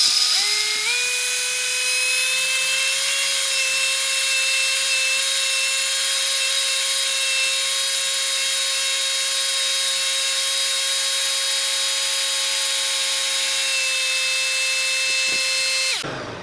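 A Ninja Mega Kitchen System blender grinds peanut butter, a loud, steady motor whine that holds for the whole stretch and steps up in pitch at the start as the speed rises, with no talking.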